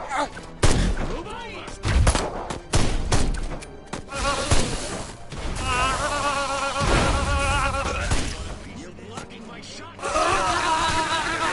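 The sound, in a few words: gunfire in the video game Destroy All Humans!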